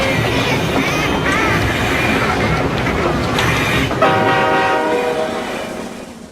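A train rumbles close by with a loud, sustained rolling roar and a horn blast near the end before it fades, with some shouting mixed in.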